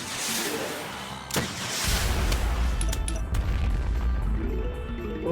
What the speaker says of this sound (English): Lots of explosion noises, huh?